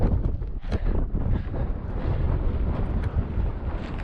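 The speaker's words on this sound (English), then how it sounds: "Wind seems to be picking up now actually." Strong wind buffets a mountain campsite on Whiteless Pike above the Buttermere Valley, a continuous loud roar with gusty rumble across the microphone and no speech.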